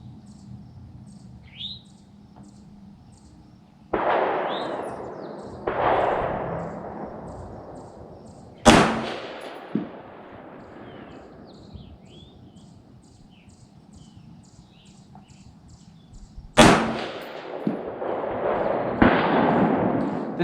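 An AR-15 rifle fires Winchester 5.56 55 grain rounds outdoors: several sharp, loud single shots spaced seconds apart, each trailing into a long echoing decay, with birds chirping faintly in the background.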